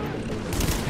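Rapid gunfire and grenade explosions from the video game The Division in a short dense burst, with a voice talking underneath.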